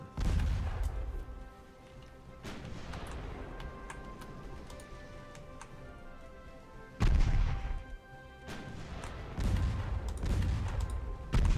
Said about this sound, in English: Those are just the 4-inch guns hitting.